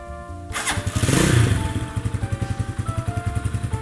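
A 2018 GPX Legend 150 motorcycle engine with stock exhaust cranks and fires up with a rising roar, then settles into a steady, loping idle with a regular thumping exhaust pulse.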